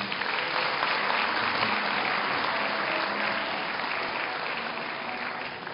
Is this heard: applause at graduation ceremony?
yes